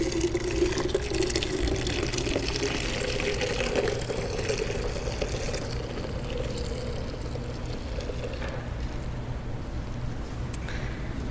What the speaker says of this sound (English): And then you can look at this milk as I pour this